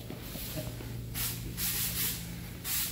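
SEM vinyl dye sprayed onto a 40-year-old car vinyl top, heard as several hissing bursts of spray, each about half a second long, separated by pauses over a low steady background hum.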